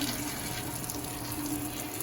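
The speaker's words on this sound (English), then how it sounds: "simply take your foam piece and run it under the water" Tap water runs steadily into an art-class sink as a foam printmaking piece is rinsed of ink, a constant close splashing hiss with no voices.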